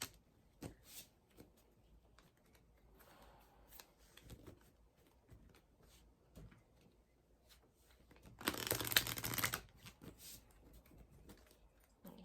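Soft, close tarot card shuffling rustles quietly across the whole stretch, with one loud riffle burst near the end. No one speaks.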